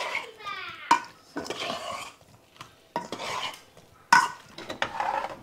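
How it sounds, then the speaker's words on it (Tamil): Sambar being stirred in a pot during home cooking: a utensil scrapes and swishes through the thick liquid, with a couple of sharp metallic clinks against the pot between softer, intermittent stirring strokes. "சாம்பாரை வந்து நல்ல ஒரு கலக்கு கலக்கி"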